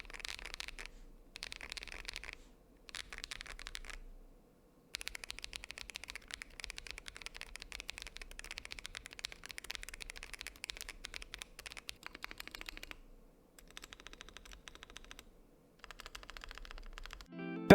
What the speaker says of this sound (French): on est sur un clavier avec un ressenti hyper satisfaisant. Aussi bien au toucher, à la pression et au niveau sonore.